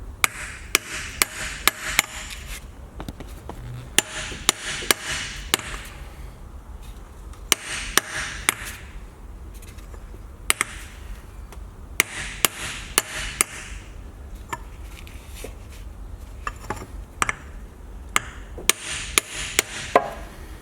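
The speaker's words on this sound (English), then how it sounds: "And use a hammer." Repeated sharp metallic hammer taps install a rear differential seal on a BMW E60, close and fairly quick, in short bursts with brief pauses, over faint background noise.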